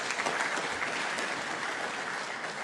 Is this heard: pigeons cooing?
no